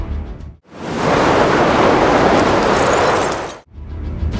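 A steady, loud downpour of heavy continuous rain falls across a waterlogged district, a thick hissing roar lasting roughly three seconds between short quieter gaps.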